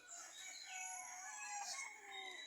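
Faint, distant rooster crowing and chicken calls drift over a quiet outdoor backdrop, with no speech.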